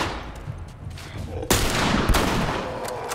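Gunfire at a zombie in the video game The Last of Us rings out as a burst of loud, close shots, with a heavy blast midway followed by sustained rattling fire.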